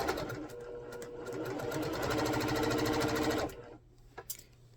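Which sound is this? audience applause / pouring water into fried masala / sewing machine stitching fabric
sewing machine stitching fabric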